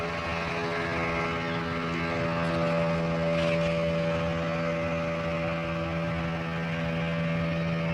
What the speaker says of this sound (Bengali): কত জোরে যায় দেখতে পারেন বন্ধুগণ আপনারা স্পিড বোর্ডটা কত সুন্দর কত স্পিডে যাচ্ছে